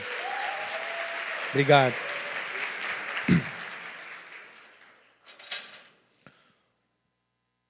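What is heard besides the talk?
applause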